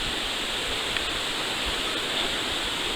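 Brook water rushing at a stream crossing on a mountain hiking trail, a steady close broadband roar with no pauses or other sounds.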